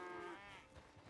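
A single short, quiet cow moo from the video game Red Dead Redemption 2, a low drawn-out call that fades quickly.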